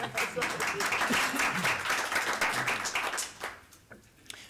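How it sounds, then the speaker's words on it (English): School district board meeting attendees clapping, a short burst of applause in a room that holds steady, then tapers off into scattered claps toward the end. "I think that deserves applause."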